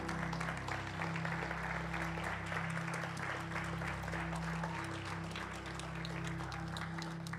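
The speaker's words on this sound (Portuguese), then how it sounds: "Você pode aplaudir o Senhor pela palavra dele?" A church congregation applauds during a sermon, soft, steady clapping from the crowd heard over sustained music from the worship band.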